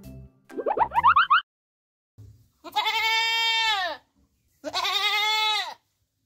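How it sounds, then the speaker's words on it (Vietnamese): A goat bleats in two long, loud, wavering calls with a pause between, preceded by a short boingy cartoon-like sound effect, heard close and alone without talk. "Con dê."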